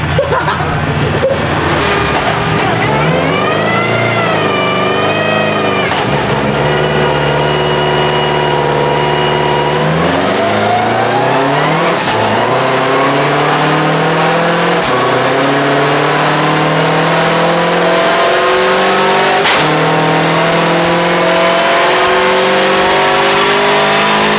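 A car with a sequential shifter, tested on a dyno, revs hard at wide open throttle through several gears, each loud rising engine pull cut by a quick shift before climbing again.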